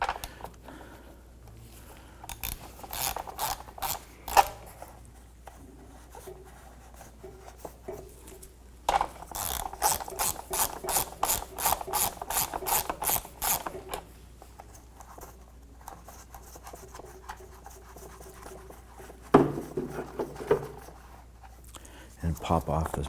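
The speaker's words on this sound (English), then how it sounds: "Go ahead and remove this nut from the stud right here." A ratchet backs a nut off a stud on the intake of a 2007-2014 Cadillac Escalade, heard as bursts of rapid close clicking that repeat several times while someone talks between them.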